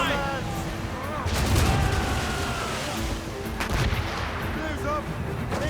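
Ship cannons fire in a naval battle in the Assassin's Creed Rogue Remastered video game, giving heavy repeated booms within a dense, continuous roar of battle as voices shout over the din.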